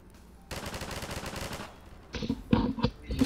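Half-Life 2: Episode One gunfire: a rapid burst of automatic shots, a short pause, then several louder scattered shots close by. No one speaks.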